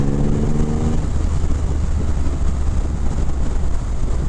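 Triumph Rocket 3 GT with a 2500 cc engine on a ride: a loud, steady engine drone mixed with heavy wind rush, continuous and close, with no talk.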